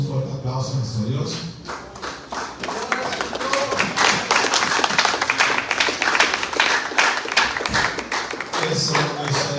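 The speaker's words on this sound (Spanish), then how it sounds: "Un fuerte aplauso a nuestro Dios." A church congregation claps for God during a Spanish-language sermon. The loud, dense clapping builds after a brief spoken opening and holds steady, with voices under it at the start and end.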